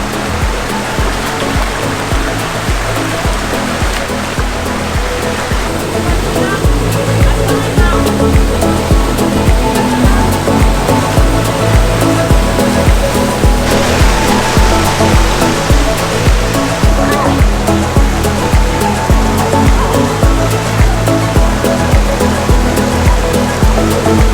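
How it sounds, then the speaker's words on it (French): Waterfall in Martinique reached at the end of a short family canyoning walk, roaring steadily as a dense, constant rush of falling water that swells slightly partway through, with no talk over it. "Ça y est, on y arrive à cette cascade."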